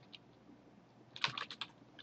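JavaScript code being typed on a computer keyboard: a faint tap or two, then a quick burst of clustered keystrokes close by, with no voice.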